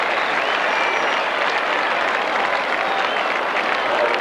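A football crowd applauds loudly and steadily after a spectacular mark in a 1990 Essendon versus West Coast match, a dense, unbroken roar of clapping filling the stadium.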